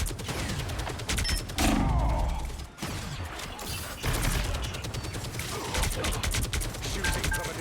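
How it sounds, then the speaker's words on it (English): Gunfire in the hero shooter game Marvel Rivals during a tournament match, rapid bursts of shots and impacts with booming hits and mechanical clatter, dense and continuous, with a voice talking briefly over it. "Shooting from a distance."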